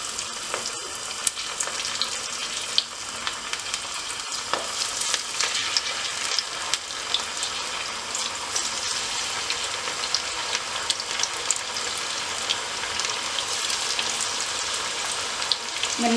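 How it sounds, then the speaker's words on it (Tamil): Paruppu vadai patties, pressed flat from lentil dough, fry in hot oil with a steady, dense crackling sizzle that runs loud and unbroken throughout, close up, with no talk. "இனி எண்ணெய் கொதிச்சுட்டு நான் தட்டி வச்சிருக்கிற வடையை இதுக்குள்ளே போட போகிறேன்."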